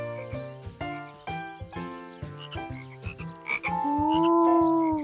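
Cartoon frogs croak in a series of rhythmic, tuned ribbits, with a longer rising croak at the end, over light musical accompaniment in a children's animated show.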